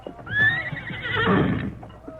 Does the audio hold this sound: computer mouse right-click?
no